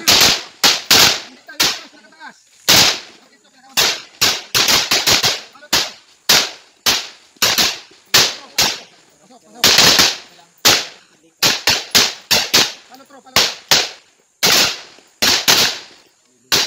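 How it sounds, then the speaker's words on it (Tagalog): Live-fire gunfire on a military training range: loud, close shots crack out in rapid bursts and single rounds, with short pauses between volleys throughout. "Commence firing. Range is hot."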